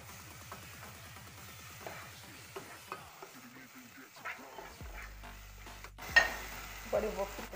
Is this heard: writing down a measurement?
no